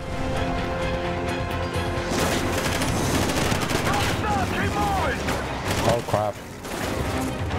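Dense, rapid gunfire from the video game Call of Duty Ghosts rattles continuously in heavy bursts, with intermittent crashes and whizzing sounds; a voice briefly reacts over the shooting.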